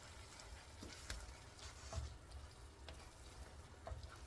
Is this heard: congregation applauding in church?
no